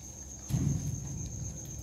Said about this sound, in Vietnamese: Đây là những con dế cái nha mọi người